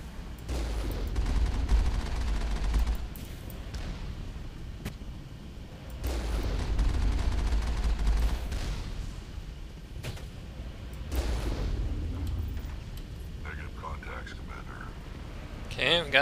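Gunfire in the video game Mass Effect, with loud sustained bursts of rapid shooting in three waves across the clip and quieter battle noise in between.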